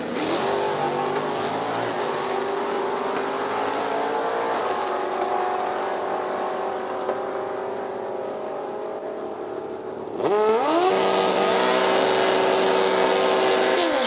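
A 1969 Chevy II station wagon launches in an NHRA Division 4 drag race at No Problem Raceway, with loud sustained engine roar and revving throughout, then a sharp jump in volume as another hard launch climbs through the gears close by.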